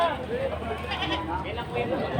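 A goat bleats at the Padre Garcia livestock market in Batangas, with wavering animal cries mixed under nearby people talking and general market noise.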